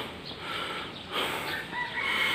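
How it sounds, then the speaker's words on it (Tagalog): Large geese at a resort honk in short calls over a few seconds, fairly near and clear against a quiet outdoor background, with no talking. "Ang lalaki ng gansa, oh."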